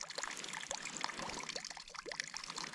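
Water spilling down a small waterfall in a snowy winter landscape, a steady close splashing and trickling rush that runs unbroken throughout.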